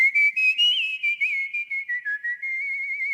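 A sampled whistling phrase from a Soundiron choral voice library, clear and close, gliding slowly downward through a sustained melodic line with short rhythmic pulses behind it, no speech.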